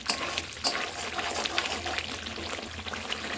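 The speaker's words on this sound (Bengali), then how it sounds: "এইভাবে ঘি ছাড়তে শুরু করে এই সময় ক্রমাগত নাড়তে থাকতে হবে" Homemade ghee bubbling and frying in a pan while being stirred continuously, a dense steady sizzle with intermittent scraping strokes, close and moderately quiet, no speech.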